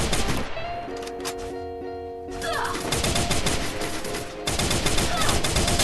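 Gunfire in the Free Fire video game, with rapid bursts and a sustained volley of loud shots, mixed with talk and game music.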